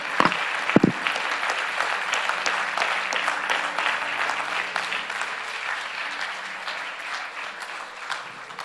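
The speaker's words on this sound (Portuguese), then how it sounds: "Vamos dar uma salva de palmas ao Senhor?" A church congregation claps during an evening worship service, starting with a few sharp claps and then settling into sustained, fairly loud applause that slowly fades over several seconds.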